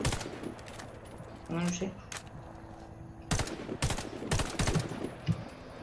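Gunfire at targets in Warface comes in several short bursts of shots, loud and close, while a voice speaks briefly between them.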